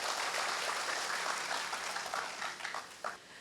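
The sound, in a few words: audience applause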